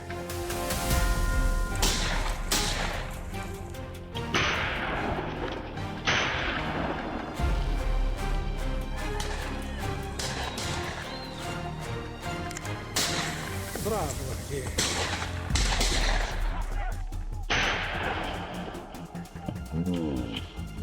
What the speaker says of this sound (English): I swiftly raised my rifle, locked onto the target, and pulled the trigger.